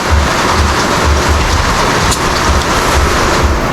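Steady, heavy rain falls close by as a dense, unbroken hiss with faint low rumbles underneath, and no voices.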